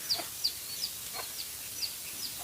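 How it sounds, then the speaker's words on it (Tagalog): Chickens on a farm give a string of short, sharp clucks spaced through the moment, moderately near over a soft, steady background hiss. "Mga manok, madungog ninyo ang mga manok, no."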